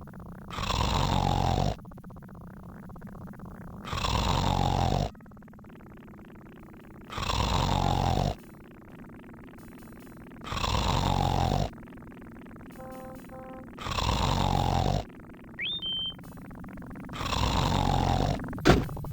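A man snoring in the Laura Bow 2 adventure game: six long, loud, even rasping snores at a slow regular pace, with quiet gaps and small game chimes between them.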